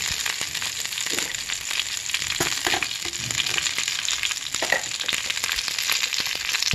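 Curry leaves and dried chillies frying in hot oil in a pan for curry leaf rice, a dense continuous crackle and sizzle with sharp pops, close and steady, no voices.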